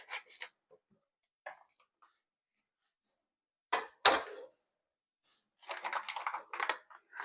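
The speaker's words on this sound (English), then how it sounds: "So now I'm about to open my bag." Crinkly plastic bag of chitterlings rustling and crackling in short bursts with quiet gaps between as it is opened, close up, ending in a longer stretch of handling noise.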